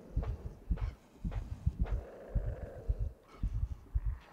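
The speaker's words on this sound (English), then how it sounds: "The heartbeat is freaking me out, but it's fine." Heartbeat from the video game Inside: low, soft double thumps repeating in a steady rhythm, fairly close and muffled, with no other sound over them.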